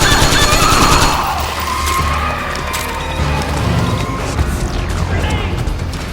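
Loud gunfire and explosive blasts in the Metal Gear Solid 4 video game, with rapid overlapping shots, cracks and booms continuing throughout the scene.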